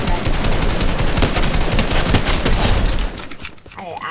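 Rapid automatic gunfire from the video game Valorant rattles loudly and almost continuously for three seconds, then thins to a few scattered shots.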